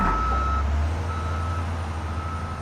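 A loader construction truck reverses, its backup alarm sounding clear repeated beeps over a low, steady diesel engine rumble that fades slightly toward the end.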